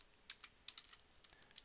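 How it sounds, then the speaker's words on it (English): Computer keyboard control and arrow keys are pressed while stepping through markers in video editing software, giving sparse, quiet, irregular clicks with short pauses between taps. "I'm using the control and arrow keys to select between markers"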